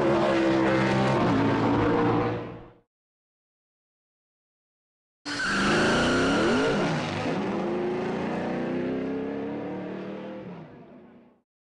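Race cars in a Cars 2 video game launching at the start of a World Grand Prix race: two bursts of loud, close engine revving separated by a silent gap, the second rising and sweeping in pitch before gradually fading.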